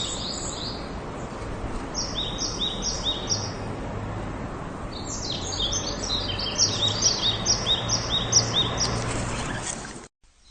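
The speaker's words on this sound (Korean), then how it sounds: "그래서 제가 직접 녹음한 새소리 함께 들려드릴게요." Skylarks sing in spring, their high, rapid warbling phrases repeating over a steady, hissy outdoor background until the recording cuts off.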